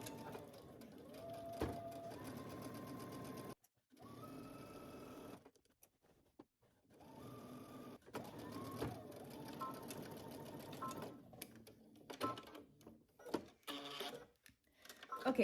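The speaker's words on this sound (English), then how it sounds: "we're gonna head to the sewing machine and we're going to stitch starting at one end just along the top" A home sewing machine stitches a 5/8-inch seam along the top edge of fabric, running in quiet, steady mechanical bursts with short pauses between them.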